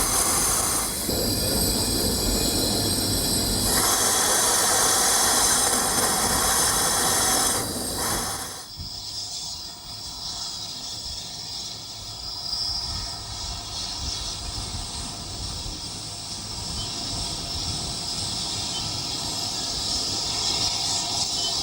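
A steam train rolls gently through Cranmore Station. Loud rumble and hiss fill the first several seconds, then a quieter continuous rolling clatter with faint wheel squeal carries on steadily.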